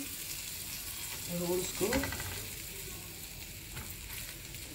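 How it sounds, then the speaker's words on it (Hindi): Bread chocolate rolls frying in butter in a pan, producing a soft, steady sizzle with a couple of quiet stirs, under a brief spoken phrase from a woman partway through. "अब ये हमारे बहुत अच्छे से दोनों तरफ से फ्राई हो चुके हैं।"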